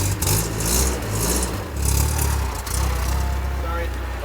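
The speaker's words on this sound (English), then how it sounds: "The car hasn't really moved in a while, so the battery's dead. We just had to bump start it real quick." A 1986 Nissan 200SX S12 engine, just bump-started on a dead battery, runs close by with a steady revving drone that dips briefly and then rises again partway through.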